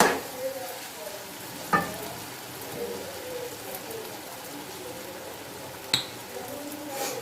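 Masala bhindi (okra) fries in a pan with a constant soft sizzle. A few sharp clinks and scrapes of a spoon stirring against the pan break in at scattered moments.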